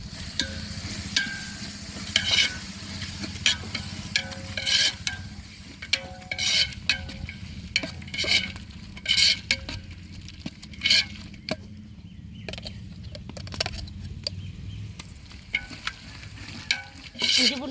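Ginger-garlic paste frying with onion and tomato in a pan for a large batch of chicken gravy, a steady sizzle with repeated scraping and stirring strokes of a spoon against the pan throughout.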